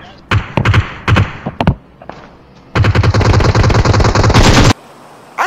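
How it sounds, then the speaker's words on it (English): Gunfire in PUBG Mobile: short bursts of loud rapid shots come first, then a sustained automatic volley lasting about two seconds, all close and sharp. "Shots from my right."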